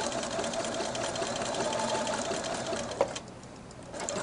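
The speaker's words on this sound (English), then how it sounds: "we can put it back under our machine and use that same zigzag and zigzag those ends together." A sewing machine zigzag-stitches fabric ends together, a steady fast mechanical whir with rhythmic needle clatter that eases off after a small bump near the end; fairly quiet and close.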